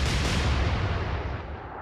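Royal Navy warship guns firing in the Atlantic Fleet naval battle game: one heavy, booming blast that rolls out loud and dies away over about two seconds.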